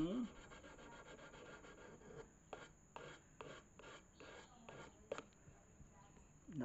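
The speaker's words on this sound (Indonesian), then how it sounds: "Nggak usah yang kasar, amplas yang halus saja ya." Fine sandpaper rubs along a machete blade in a run of quick, rhythmic rasping strokes, close but fairly soft, with brief pauses between strokes.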